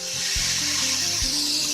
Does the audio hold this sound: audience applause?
no